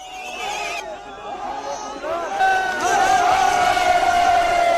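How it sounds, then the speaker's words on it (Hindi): A large crowd at a protest over a mosque in Shimla, Himachal Pradesh, chants slogans in unison, loud and sustained voices rising into a shouted refrain over general crowd noise. "ये लोग लगातार भारत माता की जय और वंदे मातरम जैसे नारे लगा रहे थे।"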